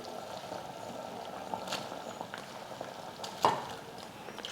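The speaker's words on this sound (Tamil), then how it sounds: "தண்ணி நல்லா இந்த மாதிரி கொதிக்க ஆரம்பித்ததுக்கப்புறமா" A steady bubbling, rolling boil of water in a pot before flattened rice is added, with a few soft clinks and stirs near the end.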